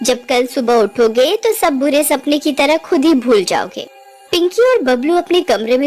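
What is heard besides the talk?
No everyday noise stands out behind the speech.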